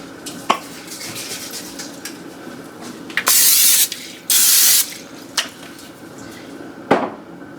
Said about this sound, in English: I'm gonna spray my press